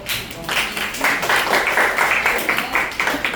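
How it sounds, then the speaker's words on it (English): A classroom of grade 8 students claps for a classmate after her presentation, a steady patter of many hands filling the room at moderate loudness with no talk over it. "Give her a clap."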